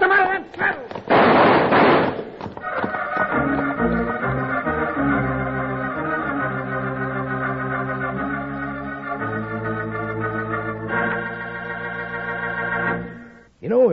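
Gunshots ring out in an old-time radio Western drama, a sharp burst of shots near the start right after shouted orders, followed by dramatic orchestral music.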